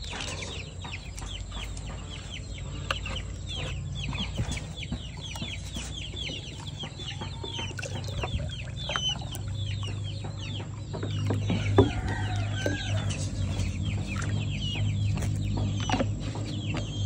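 Many KUB native village chickens clucking and squawking continuously, a busy flock close by with overlapping calls and a steady low hum underneath.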